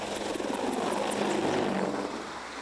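An AH-64 Apache Longbow attack helicopter produces a steady, loud broadband rotor and engine roar that holds throughout and eases slightly toward the end, with no talking.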